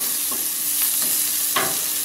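Onion and capsicum sauté in a pan for Chettinad pepper chicken, giving a steady sizzle close up with a few brief spatula strokes scraping through the vegetables.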